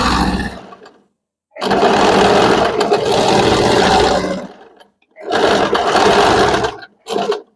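A sewing machine stitches the first line of a tuck in three loud, close bursts of whirring motor noise, each a second or two long, separated by short silences, with a final brief burst.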